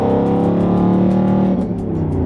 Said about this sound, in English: I need my motor to warm up a little bit more so I can have some fun on the on-ramp